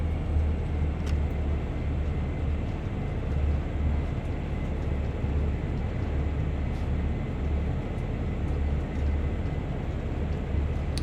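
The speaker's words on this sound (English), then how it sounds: "I actually hear a real train" A Union Pacific train passing a house, heard as a steady low rumble and rolling hum that holds evenly throughout, distant and muffled as if from indoors, with no voices.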